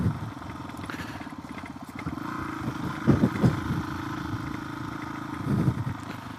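A Suzuki DRZ400S stroker dirt bike revs through a second-gear wheelie on a vineyard floor, its single-cylinder engine drumming steadily close by with throttle surges partway through and again near the end, no talk over it.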